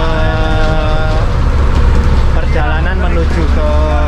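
Inside a public bus in Brunei while riding toward the city through villages, the engine drones loudly and continuously with road rumble, while someone talks throughout.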